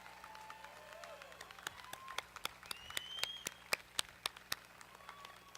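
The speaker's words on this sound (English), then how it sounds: "Please join me in applauding for these students." Scattered applause from a commencement audience honoring student award recipients: sharp, uneven claps rising to a cluster of louder hits in the middle, moderately near, with faint voices under it.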